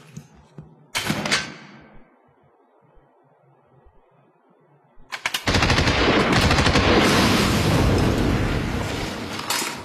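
A single sharp gunshot rings out near the start, then quiet, followed by a loud, sustained burst of rapid gunfire that fills the rest.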